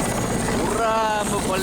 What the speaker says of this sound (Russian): летает вертолет